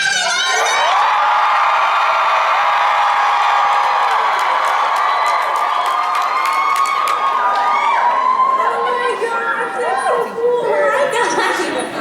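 A crowd of fans screams and cheers continuously, loud and close, a dense sustained roar of high-pitched shrieks and whoops that swells and breaks into scattered yells toward the end.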